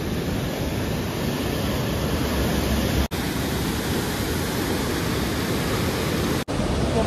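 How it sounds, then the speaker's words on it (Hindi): Loud, steady rushing water roars without pause, a dense wall of sound with two tiny breaks, no voices. "पानी रो साउंड टा सुनी पारते तो केते जोर होउची"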